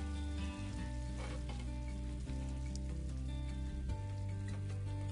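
Paillards frying in a skillet give a loud, dense, continuous sizzle with a steady hum beneath and occasional spatter, no talking.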